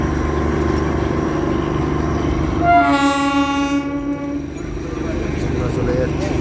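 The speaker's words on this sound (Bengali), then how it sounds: "টয় ট্রেন বাতাসিয়া লুপ থেকে ছেড়ে দিল আমাদের।" The Darjeeling toy train departs Batasia Loop with a loud, sustained whistle blast over a constant rumbling engine and rail noise, close by, with people talking faintly in the background.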